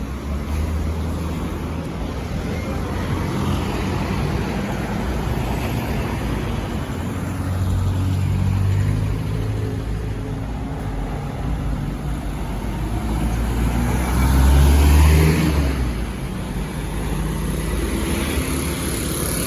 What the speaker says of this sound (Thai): รถของเราเองครับที่ บรรทุกทรายบรรทุกปูนมาครับ